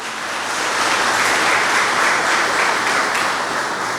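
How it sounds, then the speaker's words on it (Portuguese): A church congregation claps loudly for Jesus, a dense wash of applause swelling in and holding steady from a crowd heard at a distance. "Dê uma forte salva de palmas para o Senhor Jesus"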